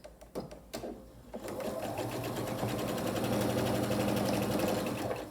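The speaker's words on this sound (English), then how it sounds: "And I'll sew right down my stitching line." A sewing machine stitches through flannel for a receiving blanket, starting with a few clicks and then settling into a steady, close, humming mechanical whir that lasts to the end.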